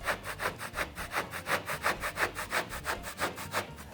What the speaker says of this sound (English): So start by doing a scrape test with your drywall knife and just see how easily it comes off.